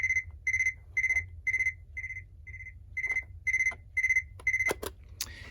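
A Citizen digital quartz flip clock sounds its alarm, a steady series of about ten short electronic beeps at an even rhythm, fairly quiet and close, followed by a few sharp clicks at the end.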